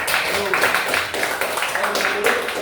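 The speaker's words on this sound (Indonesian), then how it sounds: "tepuk tangan ya buat tim" A classroom claps for a presenting student group, a steady wash of many hands at close range with voices talking over it throughout.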